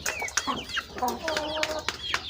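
A two-time champion rooster kept among other fowl gives a run of close, fairly loud clucks and short calls over about two seconds, with other birds chattering faintly behind it.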